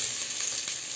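Cabbage and carrot sizzle and fry steadily in hot oil for vegetable noodles, a close, continuous crackling hiss with no talking.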